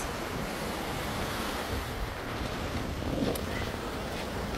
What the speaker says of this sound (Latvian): Lūk, jūriņa, stāvkrasts.